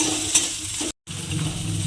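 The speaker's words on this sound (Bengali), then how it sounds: "আদা রসুন বাটাটা দিয়ে আমি একটু ভাজা ভাজা মতো করে দেব" Ginger garlic paste fries in a pan with a bright, close sizzle and stirring scrapes, interrupted by a short dropout before the frying resumes.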